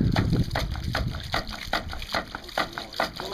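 A ram pump runs while pumping water, giving a rhythmic series of gushing, sloshing pulses about every half second after a louder watery start.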